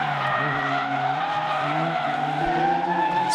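Drift cars skid at a Capital Drift competition, a steady loud tire squeal over roaring engines held for the whole stretch without pause, with no voices.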